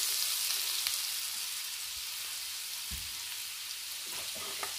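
Garlic sautéing in a pan for white sauce pasta gives a steady, soft sizzle and crackle throughout, with a few faint clinks of stirring near the end.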